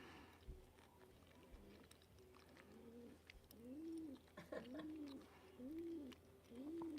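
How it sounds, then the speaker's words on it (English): Pigeons coo in soft, rounded, repeated phrases, several low warbling calls in a row, with faint chewing and small background noises. "Can you hear the pigeons?"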